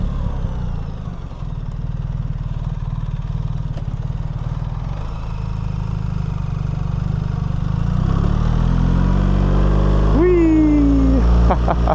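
A 2026 BMW R 1300 RT motorcycle climbs a city street hill in automatic mode. The engine drones steadily and rises in pitch as it pulls upward, and a rider talks over the engine for most of it.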